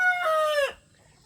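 A mother hen out in the yard gives one loud, close, drawn-out squawking call with a falling pitch that breaks off sharply and is followed by quiet.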